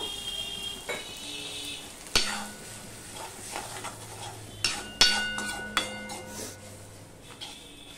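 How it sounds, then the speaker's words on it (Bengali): Masala of coriander and cumin powder being sautéed in a pan for a vegetarian arum stolon dish, a soft sizzle under sharp scraping and clinking of a spoon against the pan, with several louder knocks. "এবার আমি মশলাটা কষিয়ে নেব।"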